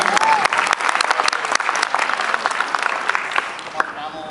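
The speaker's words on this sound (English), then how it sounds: "Give him a round of applause." Audience applause fills an anime convention panel at an acting workshop, a dense, steady clapping crowd with scattered sharp claps and a few voices and cheers mixed in, tapering slightly toward the end.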